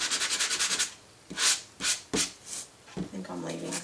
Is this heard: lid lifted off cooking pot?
no